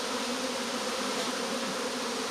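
Honeybees swarm around an opened hive frame holding brood, pollen and honey, their dense buzzing steady and close for the whole stretch.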